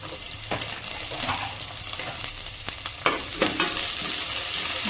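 Chopped onions and garlic paste fry in a hot pan with a continuous close sizzle, broken by a few scraping stirs and clinks of a spoon against the pan.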